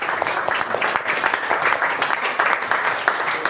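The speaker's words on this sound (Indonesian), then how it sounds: "Beri aplaus untuk semua kelompok" A classroom of students applauds every discussion group together: dense, steady clapping close by, loud and continuous throughout with no pauses.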